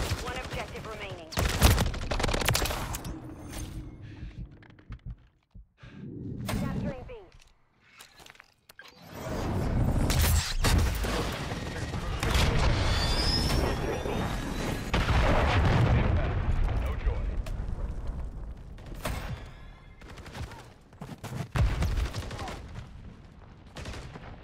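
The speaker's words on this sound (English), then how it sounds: "Friendly cruise missile deployed." Explosions and gunfire from a cruise missile strike in the video game Modern Warfare 3, heavy booms and rumbling blasts with bursts of shots, rising and falling in waves with brief quiet gaps and voices in between.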